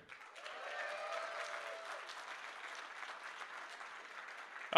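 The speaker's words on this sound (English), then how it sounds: "So round of applause for Razer." Sustained applause from a convention audience at MechCon 2017, steady clapping filling the whole stretch with a faint whistle near the start.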